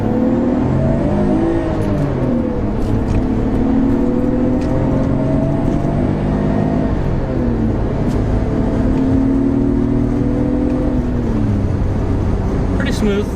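A Nissan Skyline GT-R R32 engine is revved up and down through the RPM range, its steady loud drone rising and falling in smooth sweeps, with someone speaking over it.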